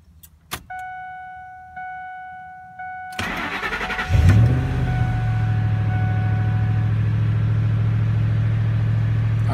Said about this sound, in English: All right, the truck's running.